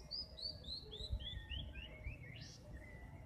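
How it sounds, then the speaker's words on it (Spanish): A small bird sings a quick series of high, sweet descending chirps, repeated several times, fairly faint over a low outdoor rumble near Popocatépetl volcano on a snowy morning after rain. "¿Ya escucharon el pajarito?"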